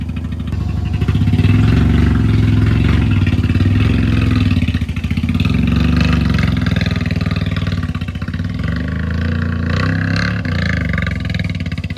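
A Mazda RX-7 GSL-SE rotary engine idles steadily nearby, a loud continuous low rumble with a slightly uneven pulse and faint clatter, running alone for the whole stretch.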